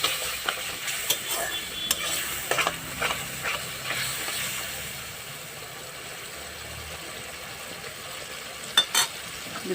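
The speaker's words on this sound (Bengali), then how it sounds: "এক চামচ হলুদ এবার মশলাটাকে ভালো করে কষে নেব" Masala with a spoon of turmeric stir-fried in a pan for a Bengali taro and eggplant curry: a steady low sizzle with scattered spoon scrapes and taps, moderately close, no talking.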